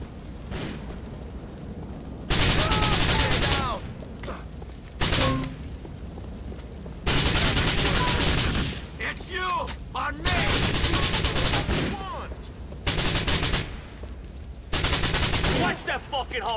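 Heavy gunfire in Grand Theft Auto 4 on PS3, loud sustained bursts of automatic fire breaking out repeatedly between quieter stretches, with voices talking underneath.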